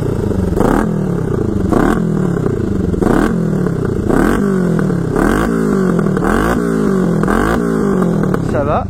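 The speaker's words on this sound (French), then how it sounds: "voilà, elle monte en régime." A Kawasaki 500 street tracker motorcycle with a carburettor revs its engine close and loud in a steady rhythm, climbing roughly once a second and dropping back each time.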